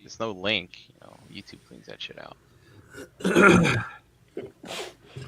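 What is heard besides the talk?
sneeze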